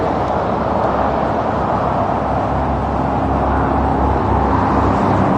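Interstate 80 highway traffic roars as a steady, continuous wash of tire and engine noise, heard at a moderate distance without breaks or distinct passing vehicles.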